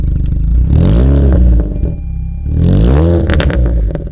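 A modified Honda Jazz CVT revs hard twice, each rising roar with a raspy, throaty aftermarket exhaust note, loud and close, with a brief lower idle between.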